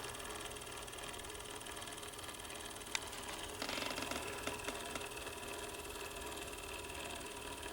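A 1915 Victor Victrola VV-IV wind-up phonograph turntable spins with a steady, low mechanical whir and faint hum, with a light click partway through and no voices.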